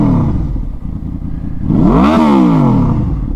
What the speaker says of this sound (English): V4s tend to be quite a harsh noise to it.